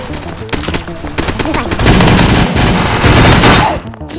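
Rapid gunfire from weapons in a Roblox shooter game, dense bursts of shots running almost continuously at close range, with a brief spoken remark over the shooting.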